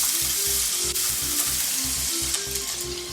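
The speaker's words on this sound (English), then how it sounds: "I'm caramelizing the onions in a bit of extra virgin olive oil" Onions caramelize in extra virgin olive oil for pizza sauce, giving a steady close sizzle with crackling bursts over a faint rhythmic low hum.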